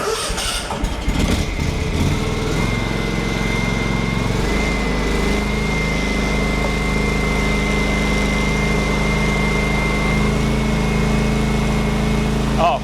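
A John Deere X380 riding mower's engine cranks and catches, then settles into a steady mid-pitched idle with a faint whine, close and continuous, started to test the PTO on a 48-inch Accel Deep deck after a belt replacement.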